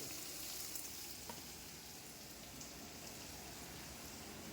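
Vegetarian chow mein fries quietly in a pan with a constant soft, rain-like sizzle and a few faint stirring knocks.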